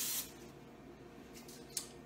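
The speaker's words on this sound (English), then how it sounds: "spray my cookie scoop so that my cookies do not stick" Aerosol cooking pan spray hisses onto a cookie scoop in a kitchen, with one short, close burst at the start and a fainter puff later.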